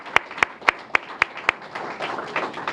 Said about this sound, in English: just a round of applause for all of you